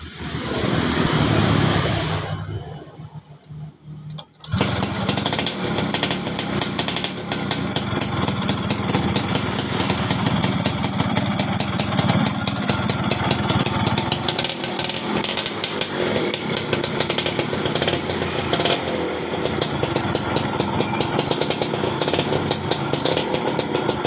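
A Yamaha Fiz R motorcycle, whose engine keeps running with the ignition key turned off, is heard up close: a loud noise, a brief drop, then a sharp start into a steady, rapid, buzzing two-stroke idle that continues for about twenty seconds.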